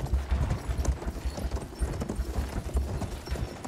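Horse hooves clip-clop in the video game Battlefield, a quick, steady galloping rhythm of close, distinct hoofbeats with no voices.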